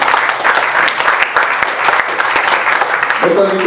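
An audience at a wedding reception applauds loudly and continuously, a dense wash of clapping with voices over it and a brief tone sounding near the end.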